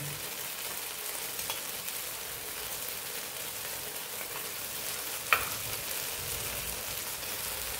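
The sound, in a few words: raw dosa frying in oil on a pan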